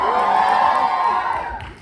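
A live audience at a Delhi comedy show cheers and shouts loudly in a dense, sustained roar of voices that swells briefly and then fades toward the end.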